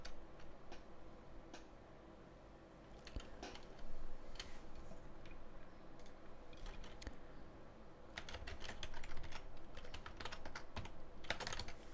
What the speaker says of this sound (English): I'm going to actually type out specifications.